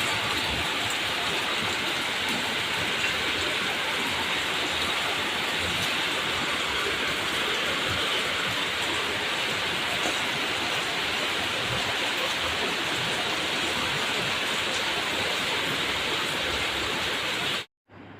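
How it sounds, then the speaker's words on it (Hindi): Heavy rain pours steadily outside a home during the monsoon season, a dense, unbroken hiss that stays loud and even for the whole stretch before cutting off abruptly at the end. "बाहर इतनी तेज़ बारिश हो रही है"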